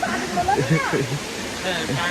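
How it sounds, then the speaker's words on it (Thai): Haew Narok waterfall at Khao Yai in the cool season, when the flow is low: a steady, full rushing roar of falling water, close and continuous, with a voice speaking over it. "นี่คือน้ำตกเหวนรกนะครับ"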